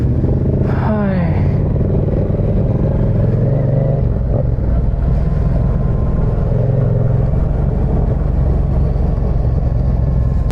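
A Yamaha MT-07 motorcycle engine runs steadily while riding on a mountain road, with wind buffeting throughout and a brief voice near the start.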